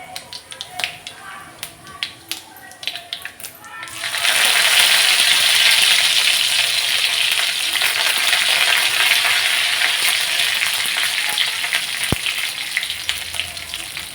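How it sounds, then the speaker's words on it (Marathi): Mustard seeds and cumin crackling in hot oil on an iron tava, a dense loud sizzle that bursts in after a few seconds of scattered pops and stays steady, close by, with a voice talking at times. "मोहरी चांगली तडतडली की जिरे घालायचे"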